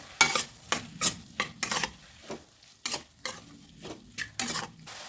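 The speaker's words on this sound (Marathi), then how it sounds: "त्याला छान असं परतून घ्यायचं" Spiced tomato chutney being sautéed in a pan, with repeated sharp scrapes and stirs of a spoon against the pan over a soft sizzle, close and fairly loud, in bursts of roughly one every half second.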